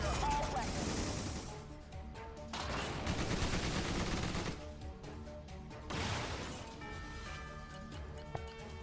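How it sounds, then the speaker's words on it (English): Weapons fire in the turn-based strategy game Tiny Metal: several loud bursts of gunfire and impacts separated by short pauses, with a game voice speaking between volleys. "Fire all weapons."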